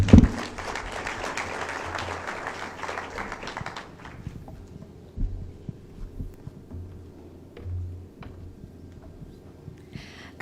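Warm round of applause for the chairman at the ABSA Foundation launch in Karura Forest, Nairobi, a dense burst of clapping for the first few seconds, then fading into low murmur and scattered noises.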